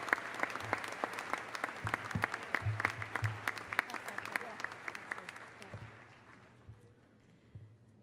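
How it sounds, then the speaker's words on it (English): Crowd applause at a university spring commencement ceremony, sustained clapping from many hands with crisp nearby claps, gradually thinning and fading to a few scattered claps at the end. "Another round of applause, please"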